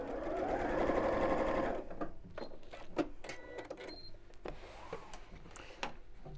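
Sewing machine stitching binding onto a bowling bag, a steady rapid whir for about two seconds, then stopping and giving way to quiet handling clicks and rustles.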